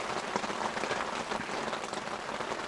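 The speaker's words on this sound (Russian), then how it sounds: "О, зашумел дождь." Steady rain patters on a tent during a spring fishing trip with wind and a heavy storm cloud, a dense, even hiss of drops close around without pause and with no voices.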